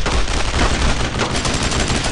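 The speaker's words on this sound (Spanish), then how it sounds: "¡No dejéis de disparar!" Dense, continuous rapid gunfire from the World War II shooter Brothers in Arms: Road to Hill 30: overlapping automatic bursts and rifle shots forming a loud, unbroken roar of combat with no pause.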